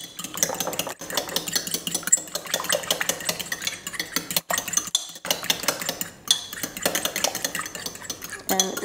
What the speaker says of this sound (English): now it's time to whisk your eggs so that they're nice and beaten